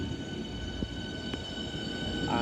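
Train pulling out of London Waterloo East station during the morning peak, a steady low rumble with faint wheel noise and a brief higher squeal, continuous and fairly near, with no talking.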